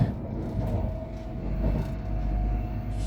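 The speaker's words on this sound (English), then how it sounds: "But this train itself sounds good and fantastic." British Rail Class 185 diesel multiple unit 185110 running, a steady close engine drone with rumbling low end and a faint sustained whine, continuous throughout with no voices.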